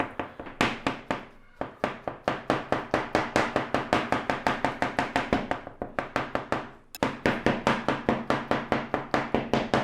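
Roasted eggplant finely chopped with a knife on a cutting board, a long run of steady, rapid close knocks with only a brief pause midway, loud and alone without speech.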